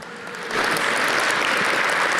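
An audience at a fashion industry Rising Star awards ceremony breaks into applause, rising quickly after a soft start and holding as a dense, loud wash of clapping.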